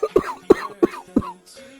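An old man coughs four times in quick, evenly spaced bursts, close and moderately loud, then a brief breathy sound follows.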